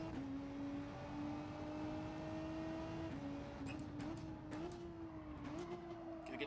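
A mid-engine car in the Gran Turismo 7 racing game drones under throttle, its engine note holding steady and then stepping through small shifts in pitch, heard quietly and continuously with no one talking.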